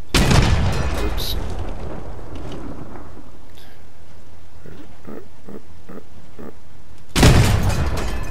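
A Mammoth cannon fires in the vehicle combat game Crossout, with a loud booming blast at the start, a quieter rumbling stretch with a few short knocks, then a second heavy blast near the end.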